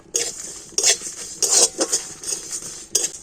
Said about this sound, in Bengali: তো সেই জন্য মশলাগুলোকে একটু হালকা করে ভেজে নেব।